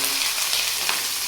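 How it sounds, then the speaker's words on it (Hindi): Loud, steady sizzling of chicken frying in hot oil for white karahi, a continuous crackling hiss with no talking. "जलते हुए तेल में इसको डाल देंगे।"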